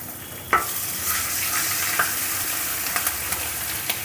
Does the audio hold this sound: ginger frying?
yes